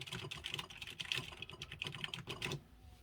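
Fingers type quickly on an Atari XE computer keyboard, a close, dense run of light clicking keystrokes that continues for a few seconds before stopping.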